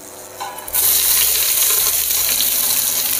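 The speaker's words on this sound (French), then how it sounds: "Je mets à suer mes oignons et mon ail." Onions and garlic hit a hot pan and break into a loud, steady sizzle that holds without pause, nearby, with no one speaking.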